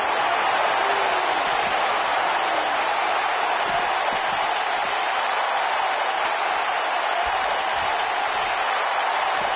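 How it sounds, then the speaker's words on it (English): Arena crowd in the wrestling video game WWE 2K19 cheering and applauding as a steady, dense wash of noise that holds at a constant level from start to finish. "by the sound of this crowd, I think they're getting what they wanted"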